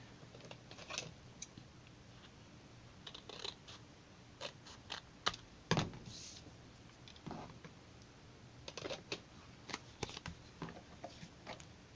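Scissors snip along the edge of scrapbook paper for a puppy-themed layout, a quiet, close run of crisp irregular clicks and crunches spread across the span, with no talking.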